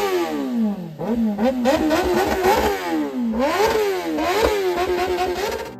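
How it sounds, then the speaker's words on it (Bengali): Kawasaki Z900 superbike engine revving hard and loud close by, with repeated rising and falling throttle blips that swell and drop several times, shown off at a superbike meetup. "তোমরা স্ক্রিনে যে গাড়িটা দেখতে পাচ্ছ সেটা হলো Z900"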